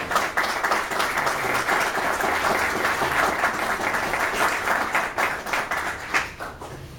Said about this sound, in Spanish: dándole un aplauso a Manuel por la calidad de su libro y por el reconocimiento.